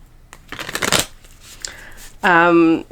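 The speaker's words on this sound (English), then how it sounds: "I'm going to pull cards for you." Tarot cards being shuffled up close, a quick riffling burst followed by a brief pause, then a voice starts speaking at the end.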